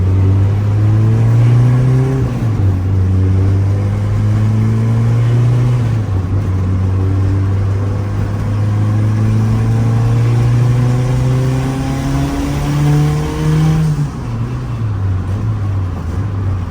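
Turbocharged Honda hatchback with an F20B engine and GT35 turbo accelerating hard on a short runway, a loud close engine drone rising through the revs, dipping at each gear change, then climbing again.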